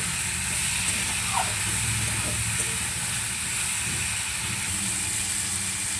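Garlic and turmeric fry in a hot pan, giving a loud, even sizzle that runs throughout, with occasional faint scrapes as the spatula stirs.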